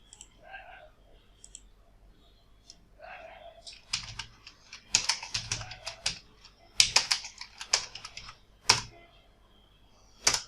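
Close, crisp keystrokes on a computer keyboard as a folder name is typed for a web design project, coming in irregular clusters of sharp clicks after a quiet start with faint, brief murmuring voice sounds.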